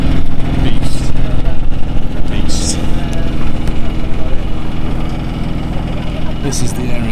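BMW M2 engine rumbling and revving near the Nürburgring, a loud, continuous throaty drone with brief sharp bursts, mixed with wind and someone talking over it.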